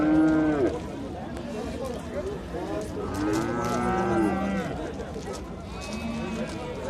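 At a livestock market a calf moos loudly and repeatedly in drawn-out, rising-and-falling calls, close by, with several moos overlapping amid general market noise.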